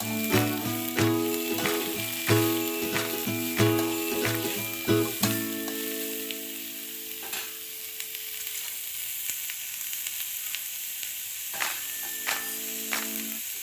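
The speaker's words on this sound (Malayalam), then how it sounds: "ഇനി നന്നായിട്ടൊന്ന് ഇളക്കി കൊടുക്കാം." Sliced onions sizzle in a pan as a spoon stirs them, with repeated rhythmic clinks and scrapes over a bright frying hiss. The strokes then fade to a softer sizzle before a few more stirs.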